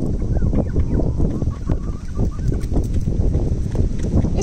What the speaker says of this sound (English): The big silly birds.